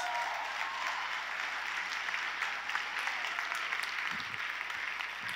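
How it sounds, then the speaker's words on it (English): A seminar audience applauds attendees who remain standing, giving a broad, even roar of many hands clapping that holds at a steady level the whole time. "give them a real round of applause."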